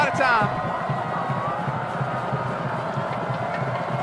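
A high school football crowd at Prairie Grove versus Harrison roars and cheers, a broad continuous wash of voices with an announcer talking over it.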